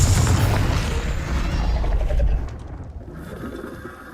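In Hogwarts Legacy, a Confringo spell sets off a deep rumbling blast that dominates the opening seconds, then drops off into a quieter game ambience.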